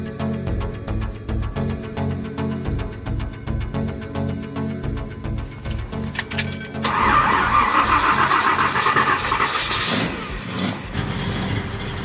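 A 1967 Ford Mustang GT390 cranks in rhythmic bursts, catches and fires up, then rises into loud, close revving that swells and settles, with no talking over it.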